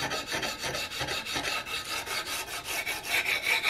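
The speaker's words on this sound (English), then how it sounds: "So really just kind of going across that with our sandpaper." Sandpaper rasps back and forth across a wooden Hawken rifle stock in steady, even rhythmic strokes, close and fairly loud, with no voices.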